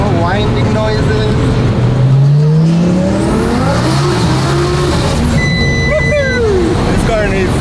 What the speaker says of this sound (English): Go through all the gears, it's nice and smooth, no funny noises, no winding noises.